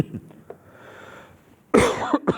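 A sharp, loud cough erupts near the end of a quiet classroom stretch during a thesis lecture, followed by a smaller second burst, after faint murmurs and small noises.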